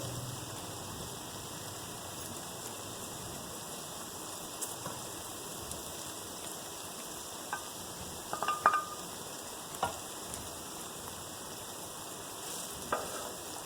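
Dry spices go into softened tomato masala and are stirred in, a faint, steady sizzle with a few soft scrapes and taps of the spoon near the end.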